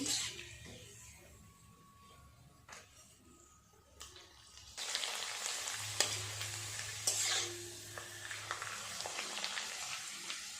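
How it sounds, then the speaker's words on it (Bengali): Small papads fry in hot oil, a soft sizzle that swells louder partway through with occasional stirring clinks, close up in a home kitchen, no talk. "ছোট ছোট পাঁপড় দেখুন, ভাজার পরে কত বড় বড় হয়ে যাচ্ছে।"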